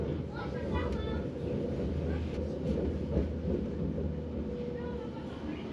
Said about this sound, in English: our now nearly empty tram rolls into De Panne station